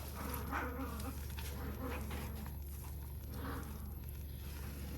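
A dog in a home kitchen gives low growls and short whimpering yips in several brief bursts, close but fairly faint over a steady background hum.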